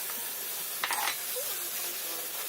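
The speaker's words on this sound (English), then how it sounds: "we're going to fry the mince for at least 1 whole minute" Minced meat frying with cinnamon, cloves and pepper in a pan gives a steady close sizzle, with a brief scrape of stirring partway through.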